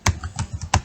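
A computer keyboard clatters during a programming lesson, with three sharp, close key clicks spread across less than a second and softer taps between them.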